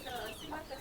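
A chicken on a farm with native hens and roosters brought from Tamil Nadu, giving a brief, close burst of clucking, under a second long.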